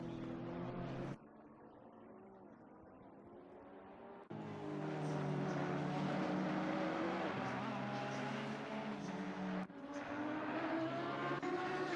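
Several GT3 race cars racing at Imola in Assetto Corsa Competizione, their engines droning and shifting pitch as they pass, loud and continuous with brief drops in level.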